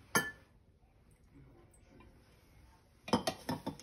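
Vinegar dressing being mixed in a bowl: a sharp metallic clink, a quiet stretch, then a quick run of clinks and taps of utensil against the bowl, close and fairly faint.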